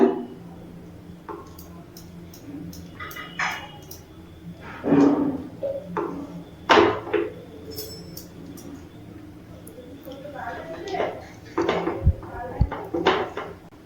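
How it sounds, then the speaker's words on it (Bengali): Melting chocolate stirred nonstop in a pot after the gas is turned off, for homemade chocolate ice cream: irregular close scrapes and light clinks of a utensil against the pot, with quiet gaps and no speech. "গ্যাসটা অফ করার পরেও কিন্তু অনবরত নাড়াচাড়া করছি, এতে করে চকলেটটাও গলে যাবে"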